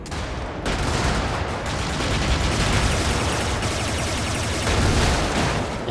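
Sustained heavy gunfire in the video game Brigador as a vehicle strafes and shoots, a dense, loud, continuous fusillade of rapid shots lasting throughout with no talking.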